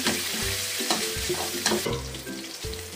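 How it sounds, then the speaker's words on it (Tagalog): Garlic sautéing in cooking oil sizzles loudly and continuously up close, while a utensil scrapes and stirs in an irregular rhythm against the pan. "Tayo po ay maggisa na. Ang bawang."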